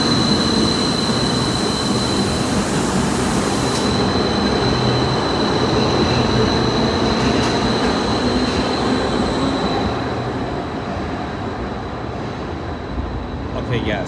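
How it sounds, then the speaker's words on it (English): A T5 train rolls into the station with a loud, steady rumble and high metallic squeal from the rails, easing slightly toward the end. "And a train is coming."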